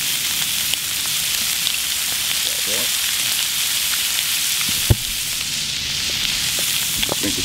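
Prawns sizzle in plenty of butter in a pan, giving a continuous crackling fry with scattered pops and one sharp click, heard close and steady throughout.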